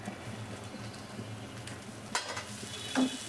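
Ridge gourd bharta with mustard paste being stirred in a hot pan, a steady soft sizzle with scraping stirs and a couple of sharper utensil knocks near the end.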